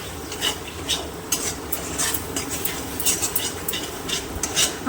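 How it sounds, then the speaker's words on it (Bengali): Prawn filling with cumin, coriander powder, chopped coriander leaves and garam masala stirred in a pan, with rhythmic scraping and clinking of a spoon over a light, continuous sizzle, close by. "ভালো করে নেড়ে দেবো"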